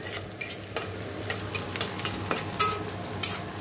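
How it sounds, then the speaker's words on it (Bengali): Onion and chilli fry in oil and butter in a wok, a close, continuous sizzle broken by soft clicks and scrapes of stirring at an irregular rhythm. "কড়াইতে তেল একটু বাটার দিয়ে তোমাদের পেঁয়াজ লঙ্কাটা দিয়ে দিই"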